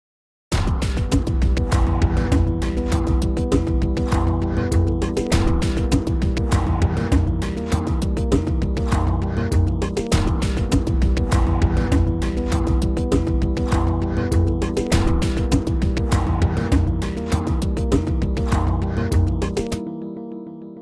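A Vikings pulse stem layered with the Atom sequence and a Cinematic Guitars loop plays as a dense, driving hybrid trailer cue, with steady rhythmic pulses, loud and continuous for twenty seconds before cutting off.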